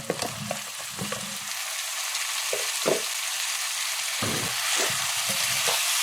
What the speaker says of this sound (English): now after frying our curry paste, we're going to add our Sijan and Eddo